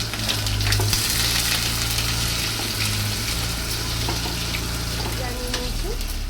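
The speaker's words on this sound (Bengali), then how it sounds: "যে দুখানা বড় সাইজের পেঁয়াজ কুচিয়েছি, পেঁয়াজটা দিয়ে লাল লাল করে ভাজবো" Chopped onions with a bay leaf frying in hot oil, a steady dense sizzle that stays even and close throughout with no talking.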